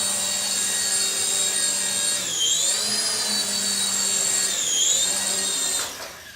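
Rotors of a small 4DRC M5 RC helicopter whine with a high, steady buzz that bends in pitch twice as it lands, then cut off abruptly near the end, close and fairly loud.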